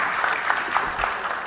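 Applause from an audience at a ceremony decorating newly promoted service officers, a steady dense clatter of many hands throughout a short burst.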